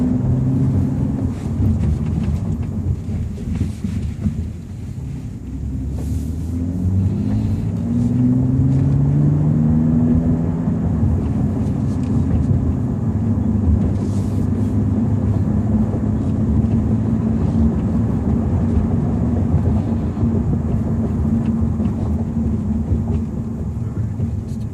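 A BMW M235i's engine drones steadily from inside the small car, a low, continuous note that rises and shifts in pitch as it accelerates, with road and wind noise constant throughout.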